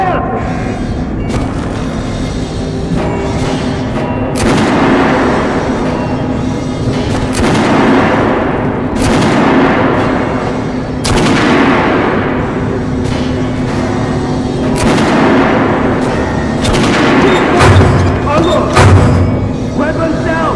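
Rapid gunfire and heavy booms from the video game Metro 2033 Redux fill the scene, loud and continuous, with shouted voices breaking through the shooting.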